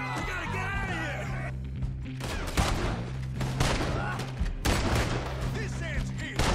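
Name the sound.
gunfire in the video game Red Dead Redemption 2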